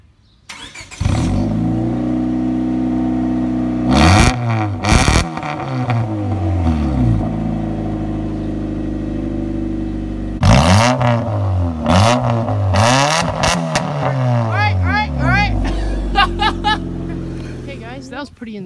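A 2000 Honda Civic hatchback engine with a homemade custom exhaust, loud and close, idling with a raspy drone and then revving hard in several sharp bursts, with a voice speaking briefly.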